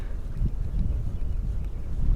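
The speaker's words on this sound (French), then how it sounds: "Le vent commence à se lever" Wind rising outdoors at a fishing spot, a steady low rumble of gusts buffeting the microphone, fairly loud and continuous with no voices.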